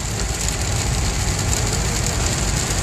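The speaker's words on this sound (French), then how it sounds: "Fou cette pluie nous dit-on, et c'est que le début" Heavy rain drums steadily on a car roof and windshield while driving through Rhône-Alpes in November, a dense, constant hiss layered over low road and engine rumble, loud and unbroken throughout.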